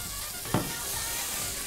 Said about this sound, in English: This is stir fry just about done.